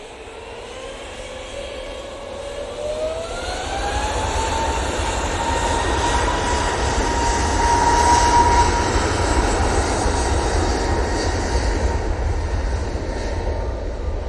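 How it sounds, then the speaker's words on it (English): A passenger jet on a holiday flight to Ibiza takes off from Manchester Airport with a steady, loud engine roar that builds and rises in pitch, then holds strong for its full length. "So this is another party plane off to Ibiza."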